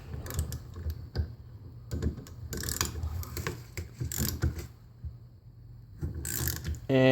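A strap wrench and ratchet work a stubborn fan bolt loose during Dynamax fan disassembly, giving repeated close ratcheting clicks and creaks in bursts, with a sharper metallic snap near the end.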